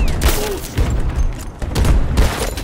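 Grenade explosions rumble through a Battlefield 2042 Portal firefight, with heavy low booms at steady intervals amid loud, continuous gunfire and battle noise.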